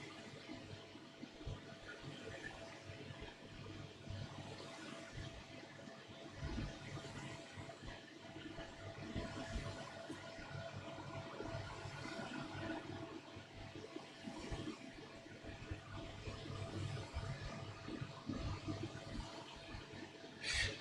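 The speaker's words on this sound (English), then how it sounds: "It's my air conditioner." Room air conditioner hums steadily in the background of an indoor miniature painting session, a faint, constant broadband whir with no voices.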